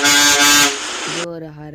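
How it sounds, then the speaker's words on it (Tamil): A loud bus air horn blasts for about a second, then drops into a lower, softer two-tone honk that cuts off, heard up close. "ஒரு ஹாரனு,"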